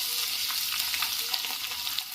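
Ginger and garlic fry in hot oil in a pan with cumin, producing a constant close sizzle and crackle with light stirring scrapes throughout.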